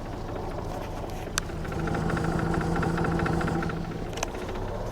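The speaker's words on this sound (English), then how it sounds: "Even the exhaust sounds a bit like a tugboat." A Mazda RX8 rotary engine idles through its exhaust, a steady low burbling rumble with a slightly uneven, misfiring pulse, heard close and fairly loud with a couple of faint clicks.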